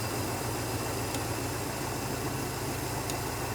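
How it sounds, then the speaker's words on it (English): A car engine idles steadily with a faint, even mechanical hum beneath broadband hiss, settling slightly lower in tone as it slows down. "You can hear the cars slowly idling down ever so slightly."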